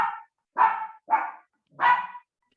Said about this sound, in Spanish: quieren ladrar.